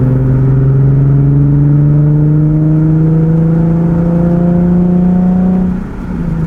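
Boosted Acura TL-S exhaust under hard acceleration, a loud, close trumpety engine tone climbing steadily in pitch for several seconds before easing off at the end.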